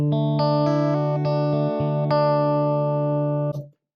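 A clean electric guitar plays a short sequence of sustained notes and chords, clear and close, ending with a quick muted scrape as it stops.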